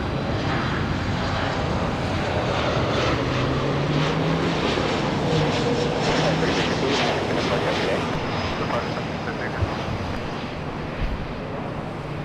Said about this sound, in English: And that was Southwest 585 from El Paso.